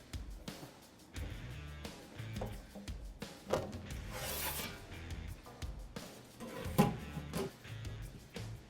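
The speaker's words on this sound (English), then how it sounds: "put a little bit of extra leverage on the bottom of the brake here" Aluminum sheet being bent on a sheet metal brake for a custom fuel cell, with scraping, rubbing metal contact and a few sharp clanks, close by and irregular.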